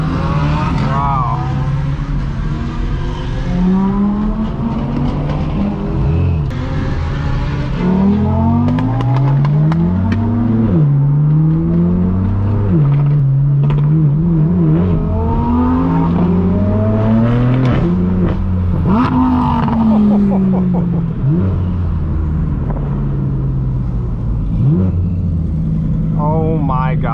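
Straight-piped BMW M4 F82 exhaust roars loudly from the cabin, revving up and down through repeated gear changes with pops, while people talk excitedly over it throughout.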